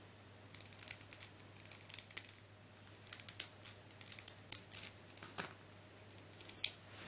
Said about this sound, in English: Peeling off these stickers is taking a lot longer than I thought it would do.